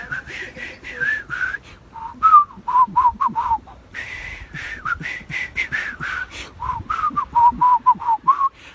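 A person whistles outdoors in cold weather, a wavering tune of short and held notes close to the listener, with no talk.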